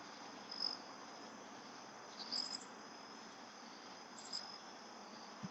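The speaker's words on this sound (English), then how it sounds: "Maybe you can hear all the crickets and" Dense, steady chirring of crickets fills the night air by a lake, with a few slightly louder trills standing out now and then; no one speaks.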